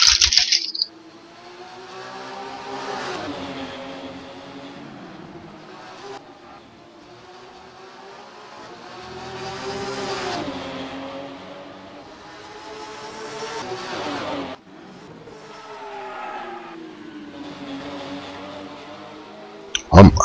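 A Porsche GSMF Cup race car circulates at Brands Hatch, its engine note rising and falling through the laps as it passes. German commentary runs over it.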